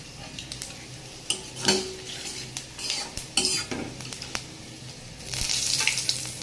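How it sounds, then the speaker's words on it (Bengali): Panch phoron spices crackle and fry in hot oil in a pan while a utensil stirs them, with scraping clinks, a sizzle that swells near the end, and no talking. "ফোড়নটা একটু ভেজে নিচ্ছি নেড়ে চেড়ে"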